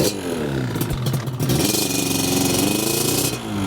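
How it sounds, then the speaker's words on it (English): A Yamaha Banshee ATV engine runs at a low idle close by, a steady buzzing two-stroke putter with a few brief blips and clattery mechanical noise throughout. "The idle is pretty low right now. I have to adjust that and bring that up. Sounds really good out of idle."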